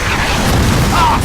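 Explosions from bombs in the video game Call of Duty 3 rumble as a continuous, heavy low boom lasting just over a second, loud and dense with no distinct separate blasts.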